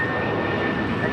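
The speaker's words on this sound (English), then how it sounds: "That is United Airlines Flight 1700 taking off to Newark on a 757-200" A United Airlines Boeing 757-200 jet takes off at LAX with a loud, steady engine roar and a faint whine, heard briefly at close range.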